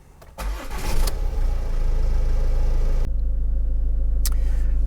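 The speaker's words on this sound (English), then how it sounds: "and then I'm just going to start the engine" A Ford Mondeo mk5 engine cranks briefly and catches, settling into a steady, loud idle that hums on evenly, with a faint click near the end.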